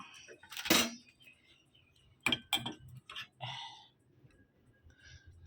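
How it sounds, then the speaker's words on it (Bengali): Tea being strained into cups at home in the afternoon, the strainer knocking against the cups: a loud close clink, then a quick pair of sharp clinks and a few softer chinks over a quiet room with no talking. "চলুন চাটা ছেঁকে নিই।"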